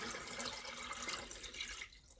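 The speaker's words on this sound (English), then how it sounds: "just pour it through the hole" Tap water pours from a jug through the hole into a pet water fountain, a continuous soft splashing and gurgling stream that tapers off near the end.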